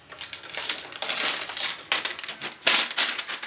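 Paper cardboard covering on a sealed perfume box being torn open, a burst of close, loud crinkling and ripping in uneven bursts with brief pauses.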